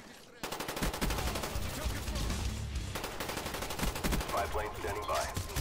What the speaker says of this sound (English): Now at number 9, we have, like what I just said, the AK-74U, specifically from Black Ops 1